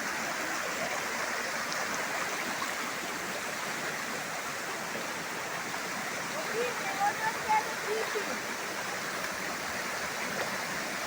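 A hidden waterfall in the Itatinga region, heard from the top of the falls, gives a steady, broad rushing roar that holds even for the whole stretch, with a few faint chirps and small sounds near the end.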